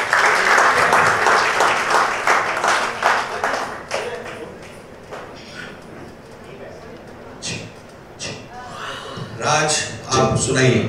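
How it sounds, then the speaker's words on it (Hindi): An audience at a Bollywood film music launch gives loud applause for the lyricist, strong clapping at first that thins into scattered claps and murmuring, then swells again briefly, with voices talking over it. "एक जोरदार तालियां"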